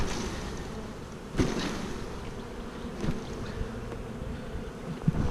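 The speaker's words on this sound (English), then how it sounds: "I have bees on my ear, on my head right now" Dense, continuous buzzing of a honeybee swarm close by, with a few louder bumps and knocks against the microphone.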